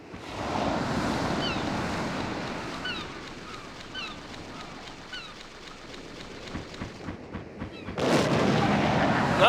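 Missile explosions in the 2005 PS2 game Steambot Chronicles: a series of repeated whistling shots and thuds over a rushing, wave-like background roar, ending in a louder blast.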